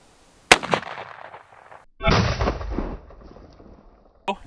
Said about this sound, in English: let's see if this 180 grain jacketed hollow point can make it through.